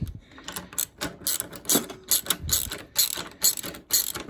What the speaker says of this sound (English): Grab your wrench and your socket.